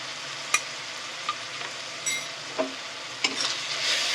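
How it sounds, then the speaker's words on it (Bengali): Ground coriander and cumin frying in a pan give a steady, close sizzle, broken by several sharp spoon scrapes and clicks as the spices are stirred. "দিয়ে ভালো করে মশলাটা কষিয়ে নেব"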